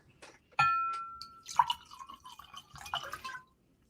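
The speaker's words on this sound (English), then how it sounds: "I'm pouring myself a third glass." Wine is poured into a glass: a clink of glass, then a short trickling, dripping stream of liquid, close and fairly quiet, lasting about three seconds before stopping.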